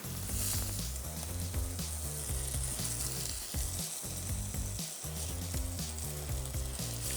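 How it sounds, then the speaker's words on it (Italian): Onion and diced potato brown in a pan for stuffed pasta with gorgonzola and pears, giving a loud, continuous crackling sizzle with occasional stirring scrapes and brief dips, no talking. "Non appena la cipolla sarà rosolata aggiungiamo la nostra patata."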